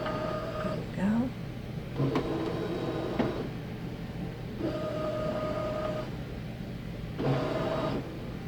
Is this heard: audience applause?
no